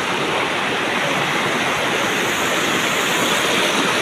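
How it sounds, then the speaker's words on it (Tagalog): River water rushing steadily and loudly, a dense continuous roar heard from right beside the flow with no voices over it. "Nasa gitna kami ng ilog"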